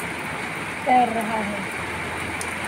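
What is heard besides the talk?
rain falling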